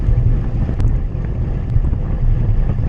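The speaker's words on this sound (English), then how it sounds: "This is a crosswind, but it feels a little bit more like a headwind." Crosswind buffets a microphone during a bicycle ride, a heavy, gusting low roar that swells and eases over a few seconds, close and continuous with no speech.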